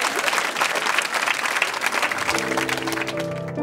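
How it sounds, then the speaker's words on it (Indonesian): Audience applause at the 2016 PUPR (Ministry of Public Works and Housing) awards night in Indonesia, a dense steady clapping that carries through, with music entering near the end. "Tepuk tangan sekali lagi"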